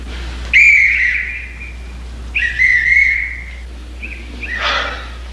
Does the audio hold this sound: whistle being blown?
yes